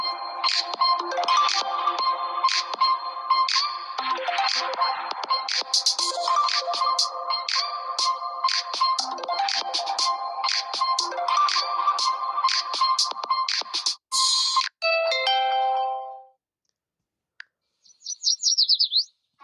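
The "Classic" ringtone on an Honor 90 Lite phone plays loud and alone: a busy, repeating run of bright chirping tones like birdsong that stops abruptly, followed by a brief quiet and a short high trill.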